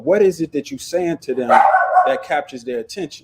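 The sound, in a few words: dog barking in the house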